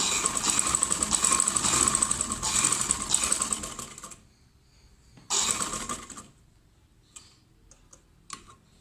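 A sewing machine stitches a girl's summer frock along the neckline, with fast rhythmic clacking in two separate runs broken by a pause, followed by a few scattered clicks and taps.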